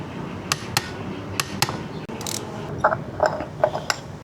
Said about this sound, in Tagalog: naset na natin 54 Newton meters. Hintayin nyo lang guys mag-click.